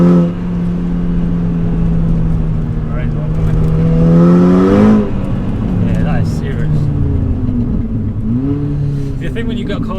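A 435bhp VW Golf GTI accelerating hard, engine note climbing through the gears with rising pitch and shifts, loud from inside the cabin while people talk over it.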